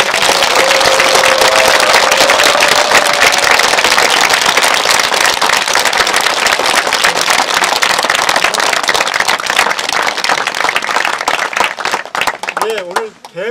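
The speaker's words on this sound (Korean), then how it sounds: "건강히 다녀오시라고 다시 한번 큰 박수 보내드립니다." Loud, sustained applause from a large audience at a Buddhist precepts ceremony, dense clapping filling the clip and fading near the end as a voice begins to speak.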